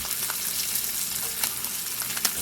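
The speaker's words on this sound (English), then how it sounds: "Oh yeah, it's spitting. That's that butter." Butter spits and sizzles in a hot pan while steak cooks, a steady close hiss broken by small sharp pops and crackles.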